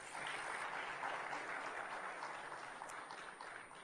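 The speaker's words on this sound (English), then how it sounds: "Please give a round of applause." Audience at a high-level Commonwealth event on violence against women and girls applauds to welcome a speaker, a faint, steady wash of clapping heard at a distance with a thin high tone running through it.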